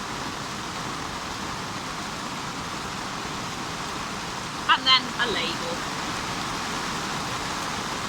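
Steady hiss of heavy rain drumming on a polytunnel roof, continuous and even, with a person briefly speaking partway through.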